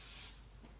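Cooking oil such as olive or canola sprayed from a can onto a tinfoil packet of steak, potatoes and vegetables: one short, close hiss that fades quickly.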